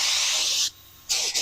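Close, steady hiss of spray painting a 9-inch rear end housing: one sustained burst, a brief pause, then a second burst starting up again.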